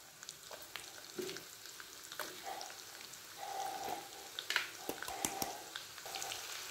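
Green chillies frying in hot oil for Punjabi mustard-leaf saag, a soft steady sizzle with scattered crackles and a few clinks of a utensil against the pan, close by and moderately quiet, with no talking.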